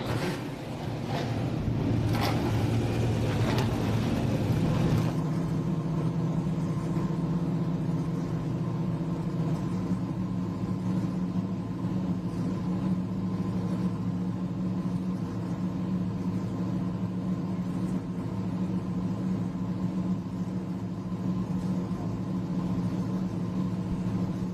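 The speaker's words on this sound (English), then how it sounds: "ladies and gentlemen, start your engines!" TA2 race cars at a Virginia International Raceway event start their engines, a burst of loud revving over the first five seconds before settling into a steady, dense idle rumble from several cars that continues unbroken.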